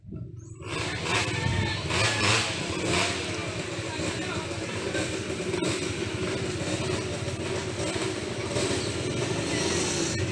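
A motorcycle engine runs on a muddy trail during a group trail ride, a loud, steady, rough drone that continues for several seconds and masks most other sound.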